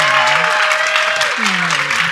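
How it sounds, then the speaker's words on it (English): A crowd at a summit event claps steadily and loudly, with a voice speaking over the applause. "Let's get a round of applause for these guys"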